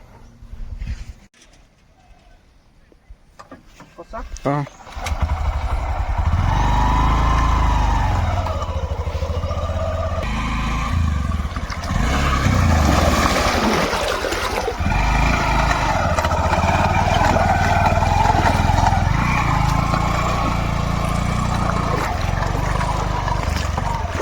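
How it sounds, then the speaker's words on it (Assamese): A motorcycle is ridden through a river in Assam, its engine revving and labouring over rushing, splashing water for most of the stretch after a quieter opening, with faint voices in places. "নদীত বাইক একদম চলাইলোঁ"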